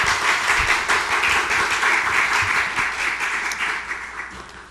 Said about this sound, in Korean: 김영애 목사님 나오실 때 큰 박수로 축복하겠습니다